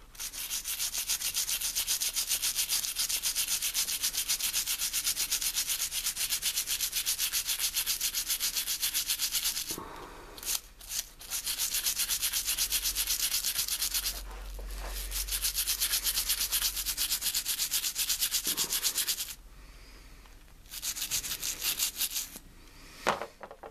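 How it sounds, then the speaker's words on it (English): A brush scrubs paint off a Transformers toy in long, close, steady bursts of gritty rubbing, broken by several brief pauses before scrubbing resumes. "So scrub it a little bit longer."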